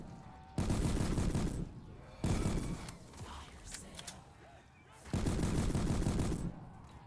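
Rapid bursts of gunfire from a weapon in Black Ops 3 custom Zombies, three loud sustained volleys separated by quieter gaps holding softer game sounds.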